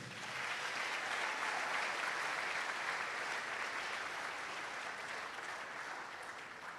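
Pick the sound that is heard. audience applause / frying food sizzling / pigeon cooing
audience applause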